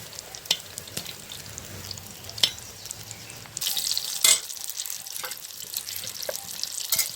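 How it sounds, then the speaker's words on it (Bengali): Eggplant frying slowly in oil on low heat for a Bengali vegetarian dish, a steady close sizzle punctuated by sharp clicks and scrapes of stirring, growing louder and denser in the second half. "এই যে আমি বেগুনটা ভেজে নিচ্ছি কম আঁচে, আস্তে আস্তে জাল দিয়ে শুধু লাল করে নেব।"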